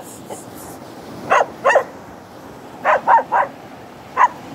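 Dogs bark at a passerby out on a walk, sharp yips and barks coming in short bursts, a single one, then a quick triple, then another single, at moderate distance against steady outdoor background.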